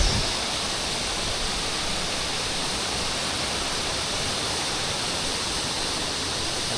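Tagbibinta Falls roars as a steady, dense rush of falling water, loud and unbroken throughout, with no voices.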